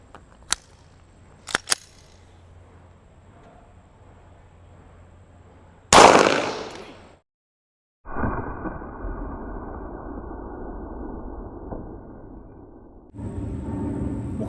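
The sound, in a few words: 9mm full metal jacket gunshots fired at body armor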